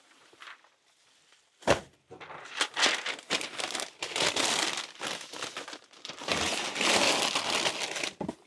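Packing paper crumpled and stuffed into the bottom of a shipping box for a poster, loud close crinkling and crushing in repeated bursts with a thump early on.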